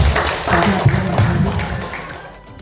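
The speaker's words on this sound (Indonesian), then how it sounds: "Tepuk tangan untuk semuanya." Audience applause at a village sanitation verification event, a short burst of crowd clapping that fades out within a few seconds.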